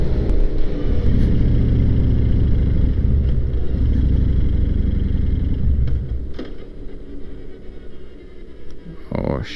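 A motorcycle engine runs low on fuel, a loud steady rumble that drops and falters toward the end as it sputters, with a voice talking over it.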